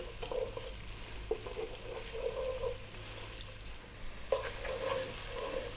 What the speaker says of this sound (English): we're going to drop in the 1 cup of onion, and we're going to cook this on an above medium heat for about 3 minutes